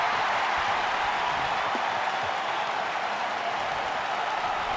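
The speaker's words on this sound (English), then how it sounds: "Crowd is going crazy right now" Crowd roaring in an AEW wrestling video game, a constant dense wall of cheering and noise from a large arena audience, loud and unbroken throughout.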